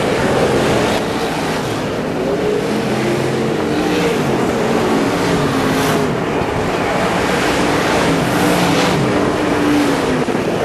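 Modified stock cars and superstocks race around a speedway track, a loud continuous roar of several engines mixed into a broad, rushing wash of noise with no pause.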